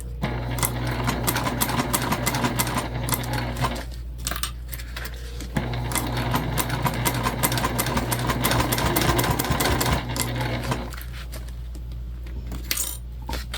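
Sewing machine stitching a travel sling bag in a hot, steamy room, a continuous rapid mechanical clatter with a low motor hum, stopping briefly twice before starting again, loud and close.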